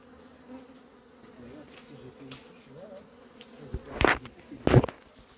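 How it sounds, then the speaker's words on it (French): Honeybees buzzing at an apiary as they pass through 6 mm anti-hornet netting, faint droning with a few sharp close fly-bys near the end. "les abeilles traversent facilement"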